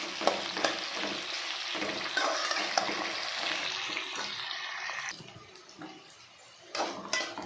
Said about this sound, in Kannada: ಗೋಲ್ಡನ್ ಕಲರ್ ಬರೋವರೆಗೂ ಚೆನ್ನಾಗಿ ಫ್ರೈ ಮಾಡ್ಕೋಬೇಕು ಆನಿಯನ್ನು